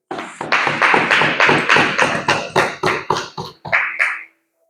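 Church congregation clapping in rhythm, about a dozen loud even beats of massed hands, close and steady, then it stops abruptly.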